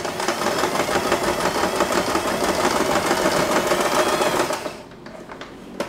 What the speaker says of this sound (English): So it's better to use a portable sewing machine rather than a mini sewing machine. Let's try to sew it.